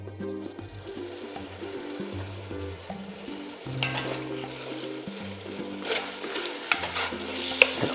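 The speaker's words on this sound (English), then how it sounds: "All we're doing is browning the meat here." Ground meat browning in a pan for a Bolognese sauce, sizzling steadily while being stirred and scraped, with busy crackle and occasional sharper clatters.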